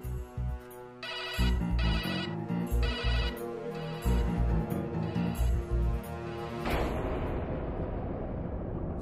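A phone ringtone plays loudly in repeating melodic bursts for several seconds, then cuts off into a dull background rumble.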